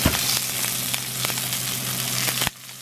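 Pork chashu sears in hot oil in a pan, giving a continuous loud sizzle with scattered crackles and pops that stops abruptly near the end, leaving quieter background noise.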